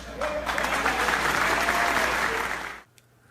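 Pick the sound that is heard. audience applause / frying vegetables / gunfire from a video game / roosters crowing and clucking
audience applause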